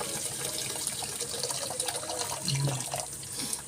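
Tap water runs continuously over paragis herb being washed by hand, a steady splashing stream with small irregular spatters and drips close by.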